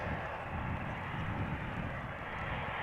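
Airliners arriving and departing at Amsterdam Schiphol Airport produce a steady, moderately loud jet engine roar that holds without voices.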